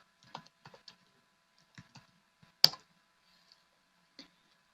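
Sparse, crisp keystrokes on a computer keyboard at a Linux terminal, a handful of quiet clicks in an irregular rhythm with one sharper tap near the middle, close and alone in near silence.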